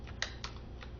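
Computer keyboard keys, shift and arrow keys, pressed while working in Paint Shop Pro 6: three distinct clicks spaced about a quarter second apart, near and moderately loud over a low steady room hum.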